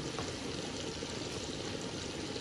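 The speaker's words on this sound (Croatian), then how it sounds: "onda ću dodati prokuhane vruće vode" Hot boiled water pours steadily into a sizzling roux of fried flour, a continuous close wash of liquid noise with no pauses and no voices.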